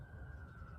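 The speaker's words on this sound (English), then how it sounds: "I'm sorry about the sirens" A steady police siren wail holds one sustained tone over low rumbling traffic, moderately loud and continuous throughout.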